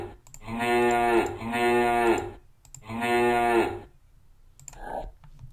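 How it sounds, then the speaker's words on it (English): A cow in the video game Fields of Logic gives three long, loud, close moos in a row, followed by a short quieter sound at the end. "Hello, cow."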